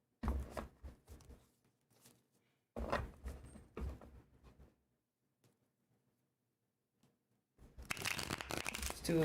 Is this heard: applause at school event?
no